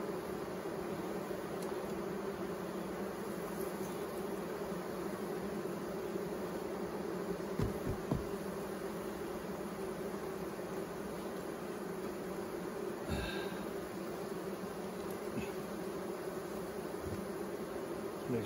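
Honey bees drone in a steady, dense buzz during a beehive inspection of an emergency split, with frames being handled and bees shaken off, a continuous close hum with a few soft knocks.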